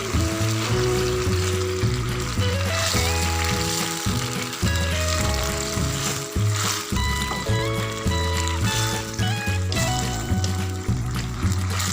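Sardine sauce simmering and sizzling in a pan, a steady bubbling crackle that runs throughout alongside background music, with no talking.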